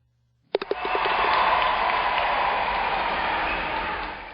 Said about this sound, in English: we'll be able to hear the first drop and then the bounce as the crowd starts cheering